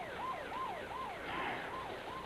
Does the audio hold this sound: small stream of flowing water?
no